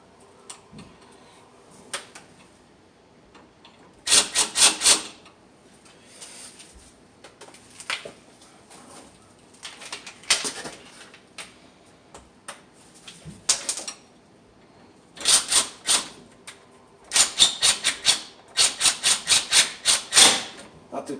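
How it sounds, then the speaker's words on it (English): A bracket is screwed onto a 2004 Infiniti G35 radiator support, giving scattered bursts of quick, dry ratcheting clicks separated by quiet pauses. "So you're gonna screw it in there."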